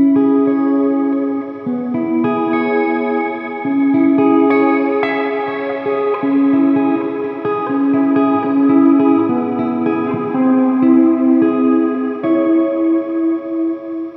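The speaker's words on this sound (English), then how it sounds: "You can hear the pitch changing ever so slightly in the background, giving a chorus effect." An electric guitar played through a Boss RV-5 digital reverb pedal in shimmer mode with a long reverb time, its sustained notes and chords trailing into a glittery, pitch-shifted wash that swells and lingers continuously.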